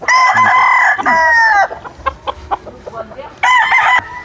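Red and white Kelso gamefowl roosters on a game farm crow loudly and close, two long crows framing a run of sharp clucks and scratchy calls in between.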